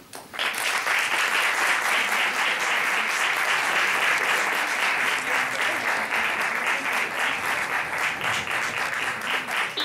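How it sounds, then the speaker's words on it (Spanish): Sustained audience applause at a Holy Week march composition contest concert, starting abruptly and holding dense and steady for nearly ten seconds, with faint voices mixed in. "Un fuerte aplauso"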